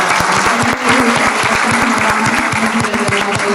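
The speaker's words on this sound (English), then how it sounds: "So perhaps a round of applause." Close, loud applause from a seminar audience at the end of a Q&A session, dense steady clapping with a few distinct nearby claps standing out across a few seconds.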